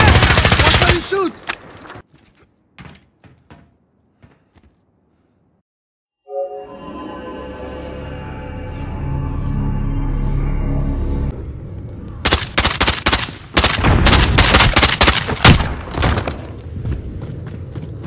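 Video game gunfire from Call of Duty Modern Warfare: a sustained burst of rapid, loud automatic shots at the end follows a quiet stretch and a droning engine-like hum, with brief game voices in places.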